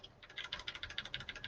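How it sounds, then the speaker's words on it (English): Steady typing on a computer keyboard during an online technical meeting, with a quick even run of about a dozen clicky keystrokes, close but fairly quiet. "I apologize for my typing noises"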